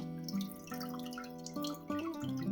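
An INVITAL CornerFilter 450 corner filter stirs the water in a small aquarium, giving a steady close wash of churning and dripping water over a faint tonal hum.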